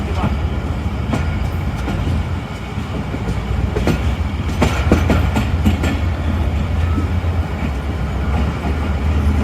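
The 15 Up Karachi Express, a Pakistani passenger train, rolls through a level crossing near Multan and picks up speed. A steady loud rumble of wheels and cars runs throughout, with clickety-clack beats on the rails.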